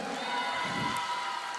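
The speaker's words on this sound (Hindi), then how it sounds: "पहले सबके लिए एक बार ताली हो जाए।" Audience at a Rajiv Gandhi University Hindi Fortnight celebration applauds student dancers with a steady wash of clapping and crowd cheering, loud and continuous throughout.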